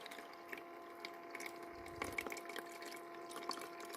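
A new ice maker spills and drips water, with faint, soft splashes and drips scattered over a steady low mechanical hum. A cluster of louder trickles comes near the middle.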